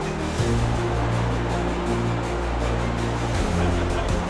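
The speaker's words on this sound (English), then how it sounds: "Waterfall." Waterfall inside The Narrows canyon at Zion National Park, Utah, heard as a steady wash of falling water, with a low droning hum running underneath throughout.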